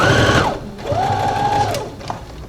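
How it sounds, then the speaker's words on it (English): A sewing machine reverse stitching on a men's shirt runs in two steady motor bursts with a brief pause between them, then gives a small click at the end, close and moderately loud. "I'm just going to start here, reverse stitch it."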